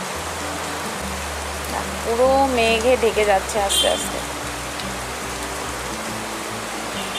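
Heavy rain falling in Darjeeling, a steady close hiss of downpour that continues throughout while someone speaks briefly over it.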